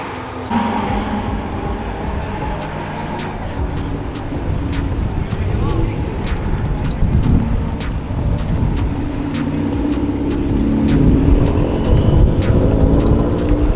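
A close, loud Audi TT race car drives on track, heard from inside with a steady engine drone and repeated sharp rattles and clicks.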